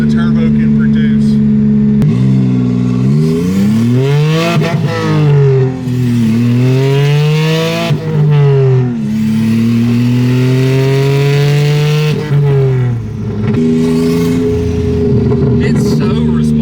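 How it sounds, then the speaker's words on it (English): A turbocharged Volvo wagon with a swapped GM LFX V6 revs loudly and close, its engine note climbing and falling repeatedly through several throttle blips, with people talking over it. "I think the motor's physically ingesting more air than the turbo can produce."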